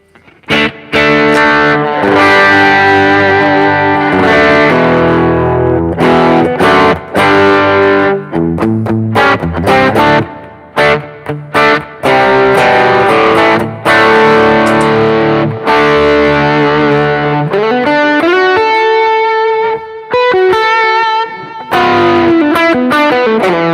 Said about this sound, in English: I'll swap over to a humbucker guitar